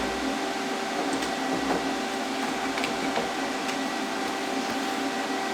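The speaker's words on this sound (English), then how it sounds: "Got my plasma cutter already going." A plasma cutter hisses with a steady broadband rush while cutting metal for a storm damage repair, with faint crackles and ticks over a constant hum, close and with no talk.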